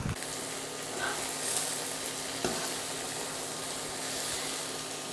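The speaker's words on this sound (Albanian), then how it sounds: "Sa më mirë të skuqen patlıxhanët, aq më e shijshme bëhet receta" Eggplant frying in hot oil for meatballs, a steady broadband sizzle with small crackles throughout, close and continuous with no talk.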